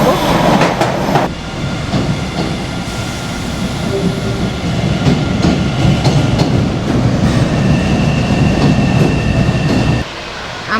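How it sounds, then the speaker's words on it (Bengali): A Boston subway train pulls into Park Street station, a loud, sustained rumble of rail cars and clattering wheels filling the platform, with faint voices mixed into the din. "ট্রেন চলে আসছে, আমরা ডাউনটাউন থেকে রওনা হব।"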